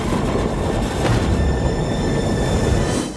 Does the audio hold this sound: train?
yes